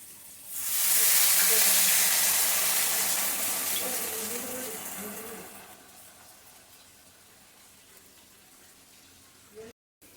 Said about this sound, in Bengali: একসঙ্গে কষানোর পর এখন দিয়ে দিচ্ছি জল